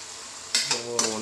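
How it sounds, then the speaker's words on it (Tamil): Curry leaves drop into hot oil for a chicken pepper fry, giving a quiet frying hiss that breaks into three sharp bursts of crackling sizzle as they are stirred. "இந்த ஸ்டேஜில் வந்து நீங்கள் வந்து கருவேப்பிலை போட்டுக்கிறேன்."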